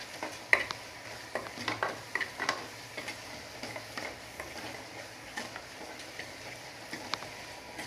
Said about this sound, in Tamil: கொஞ்சம் வெங்காயம் நல்லா செவக்க வதக்கிக்கலாம்.